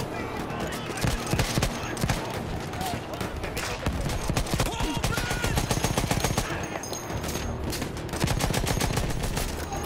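Repeated gunfire in a video game, steady clusters of shots over nearly ten seconds with a player talking over it.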